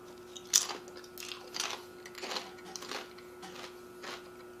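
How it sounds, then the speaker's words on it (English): Homemade potato chips cooked in a microwave chip-maker, bitten and chewed in a handful of crisp crunches, close and fairly quiet over a faint steady hum. "They have a really nice crunch like a chip."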